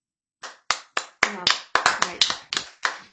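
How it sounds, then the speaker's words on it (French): A single person claps their hands about ten times at a steady, slightly uneven pace, each clap sharp, close and crisp, with no voices in between, on a French TV talk show. "j'applaudis"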